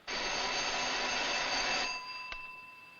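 A telephone rings close by with a loud continuous electronic tone lasting nearly two seconds, then stops and leaves a faint hum and a small click.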